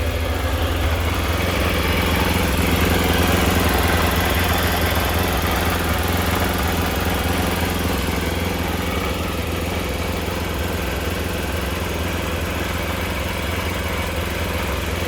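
A 2-stroke engine on a Triumph Trophy runs continuously and loudly, with a dense, buzzy idle and a constant rattle throughout and no talk over it.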